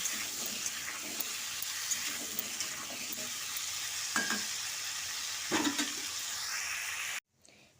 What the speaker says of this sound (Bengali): নুন আর হলুদটা দিয়ে আলু ও কুমড়োটাকে একটু লালচে করে ভেজে নেব